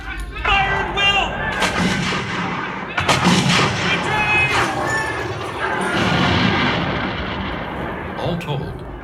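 Musket volley fired by light infantry in a battle reenactment near Niagara, repeated sharp booming shots cracking and echoing over shouting voices throughout.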